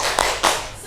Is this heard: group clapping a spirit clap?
yes